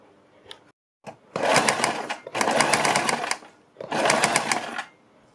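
A sewing machine stitches a suit neckline in three close, steady bursts of whirring needle noise, separated by short pauses with a faint click before the first run. No one speaks.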